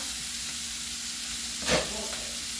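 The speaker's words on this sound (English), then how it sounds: "Okay, there it is. It's sauteing down." Pumpkin dumpling filling sautés in a pan on a stove, giving a steady soft sizzling hiss with one brief louder spitting burst midway, close and without talk.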